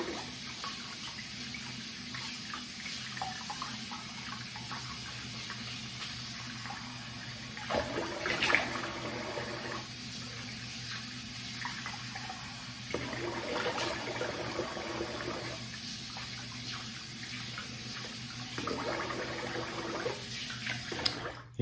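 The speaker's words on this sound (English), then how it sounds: "So I'm gonna rinse off. I'm gonna rinse the face" A bathroom tap runs steadily while someone rinses their face after a shave, giving a constant hiss with faint splashes and a few louder bursts as hands cup the water.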